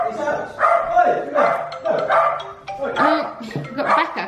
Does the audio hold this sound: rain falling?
no